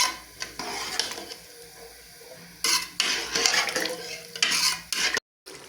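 Black chickpeas stir-fried in oil, loud sizzling under repeated spoon scrapes and metal clinks against the pan, with bursts of louder stirring and a short silent break near the end.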